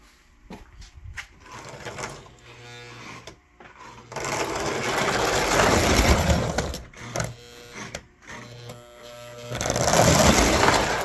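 A Lionel toy train motor runs on its track with a loose wheel, a loud whirring mechanical buzz that stops and starts in bursts, rattling and clattering as it goes.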